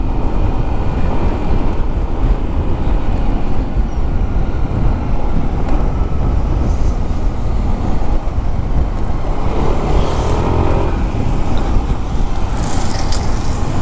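A Yamaha NMAX V2 scooter rides along a road in Pampanga, giving a continuous loud roar of wind buffeting and engine and traffic noise with no break, and almost no talking.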